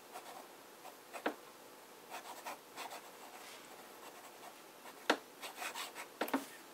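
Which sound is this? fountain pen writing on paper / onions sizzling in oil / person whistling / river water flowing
fountain pen writing on paper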